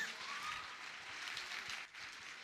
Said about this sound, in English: So you can give me a round of applause now.